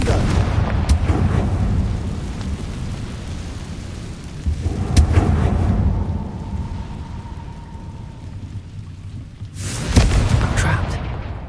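A Confringo fire spell blasts off in Hogwarts Legacy, a loud rumbling explosion with a sharp crack near the start and another burst near the end, over a dense, rain-like roar of game ambience.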